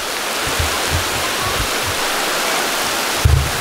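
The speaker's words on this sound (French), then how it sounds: "Regardez-moi la cascade, elle est là." Waterfall on the Seven Cascades hike in Mauritius, a steady broadband roar of falling water heard close and alone throughout, with a brief bump of handling noise near the end.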